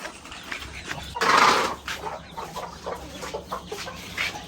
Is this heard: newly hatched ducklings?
yes